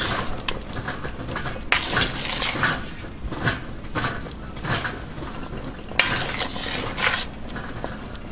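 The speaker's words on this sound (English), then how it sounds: "See, it's still boiling after I stir it." Pineapple jam boiling in a pot as a utensil stirs it, a dense bubbling hiss with scraping strokes against the pot in uneven bursts, close and fairly loud.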